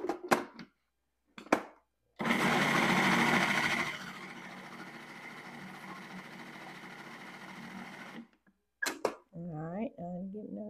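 Kitchen blender or food processor whizzing a spinach pasta mixture with Parmesan, lemon, salt and pepper: a loud motor burst settling into a steady whirring drone for about six seconds, with brief speech before and after.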